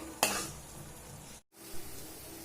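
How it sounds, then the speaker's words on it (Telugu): Beetroot halwa cooks in ghee with a steady sizzle and the occasional scrape of stirring. A sharp clatter comes near the start, and the sound cuts out briefly before the frying resumes. "నెయ్యి వదిలే వరకు ఇప్పుడు మనం ఉడికించుకోవాలండి"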